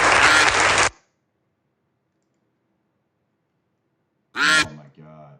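Ducks in a video game give a short burst of quacking and honking, loud and close, then silence before a second brief honk with a quieter trailing call.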